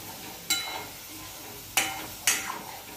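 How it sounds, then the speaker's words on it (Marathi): Vegetable curry stirred in a pan over a low gas flame, three distinct scraping strokes of the spoon against the pan with brief rattles between, close and fairly quiet, no talking. "हलवत राहायचं"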